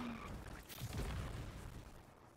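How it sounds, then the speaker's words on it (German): A muffled, low explosion in the video game Anthem booms and rumbles briefly, fairly faint, then fades out. "Die Dinger explodieren so hart, wenn ich mit Eis drauf gehe"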